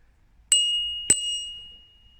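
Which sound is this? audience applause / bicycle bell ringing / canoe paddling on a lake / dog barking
bicycle bell ringing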